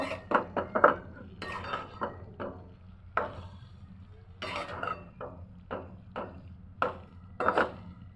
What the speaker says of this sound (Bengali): সিদ্ধ করে রাখা কচুর শাক এখন নেড়ে দিব